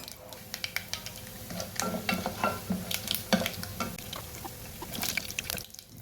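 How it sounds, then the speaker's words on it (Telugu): Mustard seeds, cumin and chana dal fry in hot oil for Bombay chutney, with soft popping crackles and light stirring clatter over a quiet sizzle, ending in a brief lull. "దాంట్లోకి కొద్దిగా శనగపప్పు కూడా యాడ్ చేసుకొని లైట్ బ్రౌన్ కలర్ వచ్చేంత వరకు ఫ్రై"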